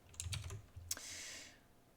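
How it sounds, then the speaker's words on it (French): Quick computer keyboard typing: a short burst of clustered key clacks followed by a sharper single tap, close and fairly faint, with no voices. "faut que je pense à changer mon clavier"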